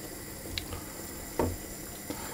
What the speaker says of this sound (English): what I'm going to do is I'm going to let this simmer for 20 minutes